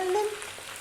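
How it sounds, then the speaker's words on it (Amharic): Meat frying in a pan for Ethiopian kikel, a short burst of sizzling with a faint scrape of stirring, close and alone. "ቅቅል ስትሰሩ ስጋችሁን በደንብ አድርጋችሁ ጥበሱ"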